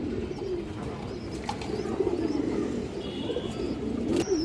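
A breeding pair of pigeons coos in low, throaty, continuous rolls, close by, with faint chirps and small rustles around them.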